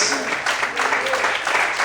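A church congregation claps and cheers in praise during a sermon, a continuous wash of many hands in a reverberant room that stays steady and fills the whole moment.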